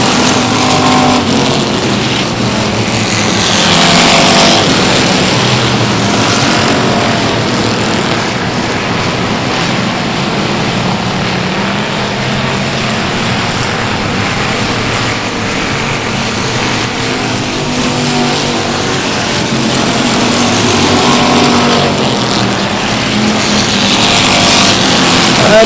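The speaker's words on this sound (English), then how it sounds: "Green flag is out. We're gone racing." Race cars roar off at the green flag at South Texas Speedway, a loud sustained engine howl from a pack of cars that swells and fades as they pass, with no talking.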